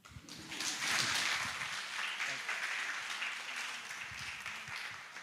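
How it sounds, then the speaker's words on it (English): An audience at a youth forum on sustainable development goals claps together in a sustained round of applause, a dense, even patter that swells quickly and carries on, with a voice speaking over it. "A big round of applause again for him"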